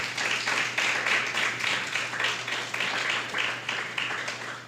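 An audience at a library book presentation claps for two members of the Nyabinghi Theocracy Order, a continuous round of moderate applause that fades slightly at the end.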